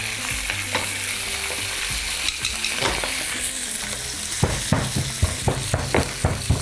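Chicken drumsticks sizzle steadily in a frying pan while a utensil stirs and turns them, with a series of sharp scraping clacks growing more frequent toward the end.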